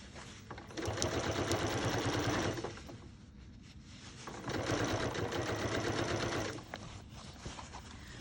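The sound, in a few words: sewing machine hemming pants with bias tape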